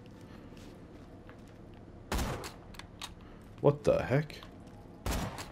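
Gunfire in the video game Borderlands 2, with a few sharp bursts of shots at intervals over background game noise and a brief exclaimed voice in between.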